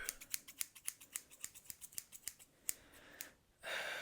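Quick rhythmic snips of barber scissors cutting hair during a close-up haircut, crisp and near, about a dozen evenly spaced cuts, then a brief rustle of combing at the end.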